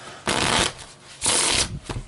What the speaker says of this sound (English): we're going to be learning the Riffle Shuffle,